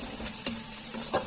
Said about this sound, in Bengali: পেঁয়াজটা প্রায় ভাজা ভাজা হয়ে গেছে, কাঁচা গন্ধটা ছেড়ে দিয়েছে।